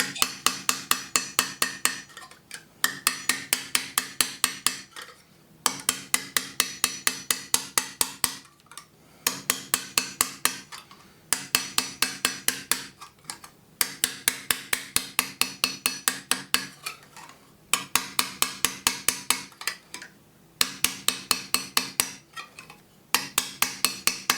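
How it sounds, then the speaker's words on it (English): A peen hammer straightens metal at the edge of an anvil while a custom pendant is forged. Bursts of rapid, ringing metallic blows repeat in regular groups, with short pauses between them and no talk. "I'm still using my peen and just straightening things up"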